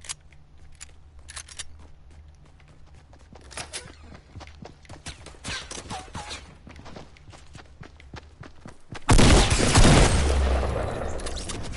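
Rapid bursts of assault rifle fire in a video game ring out amid footsteps and clatter, building to a loud, sustained barrage near the end.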